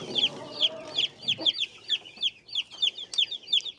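Steady high-pitched peeping from a group of Australorp chicks, rapid and overlapping, with soft clucking beneath; fairly close and continuous.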